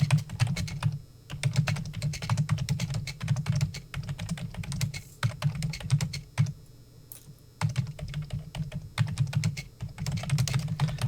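Rapid, continuous keyboard typing close by, clattering keystrokes in bursts with brief pauses, over a low steady hum.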